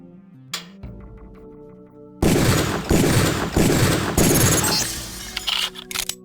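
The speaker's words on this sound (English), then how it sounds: "Release the second target and aim before shooting this time" Gunshots fired at a target in Deus Ex training, a rapid burst of several loud, crackling reports in a row, followed by sharp breaking and shattering impacts, preceded by quieter game tones.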